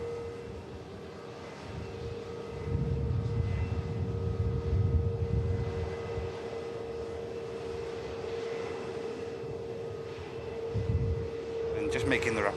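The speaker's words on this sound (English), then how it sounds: "EasyJet just rolling past us." An EasyJet airliner taxis past at Manchester Airport, a steady low engine rumble with a constant whine, swelling slightly as it rolls by at moderate distance.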